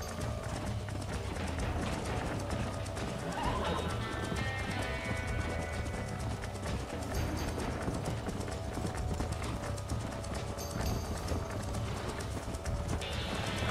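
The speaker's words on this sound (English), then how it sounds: "Come on, horse, I need you to get my stamina back." Horse hooves clip-clop steadily in Red Dead Redemption during ranching, with an occasional neigh over a continuous game soundscape and faint background noise.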